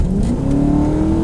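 A 2004 Ford Mustang GT engine pulls hard under acceleration, a loud, steady rising drone filling the cabin for the whole stretch, with no talking over it.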